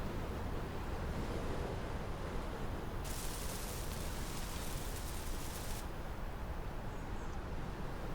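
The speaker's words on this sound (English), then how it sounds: "Windy morning." Steady windy ambience from the Space Engineers game on a windy morning, a continuous broadband rush at moderate level with a brighter gusting hiss swelling in the middle, no voices.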